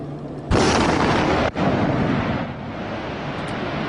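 Underwater explosion sound effect: a sudden, loud, close blast hits after half a second, followed by a sustained, roaring, wash-like rumble that fades slightly but continues to the end, with no voices.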